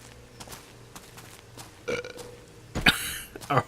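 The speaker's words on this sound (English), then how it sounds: "Or burp." A burp from The Witcher 2 game, heard amid low background sound: a short guttural burst, then a louder, longer belch a second later, with a faint final gurgle.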